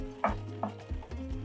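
Eggs being beaten one at a time into coconut pound cake batter by a mixer set on low, heard as a few sharp clattering strokes against the bowl over a steady low motor hum.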